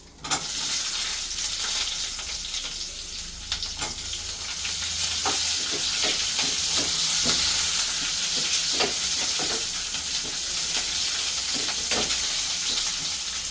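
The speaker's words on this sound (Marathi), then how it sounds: "मसाल्यासाठी बघा खोबरं भाजून घेते" Finely chopped coconut and half an onion dry-roasting in a pan, giving a steady close sizzle with scattered crackles and stirring scrapes throughout.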